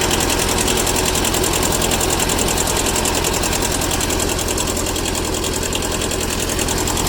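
A Kubota B6000 tractor's small diesel engine idles close by with a steady, fast knocking chatter and even rhythm throughout, loud and unbroken, with no voices.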